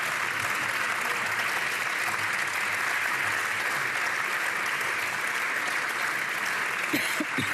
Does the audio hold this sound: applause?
yes